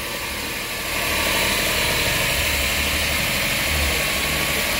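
A freshly overhauled Suzuki Multicab K6A engine idles with a smooth, even, close-up drone that swells slightly after the first second and then holds steady, alone without speech.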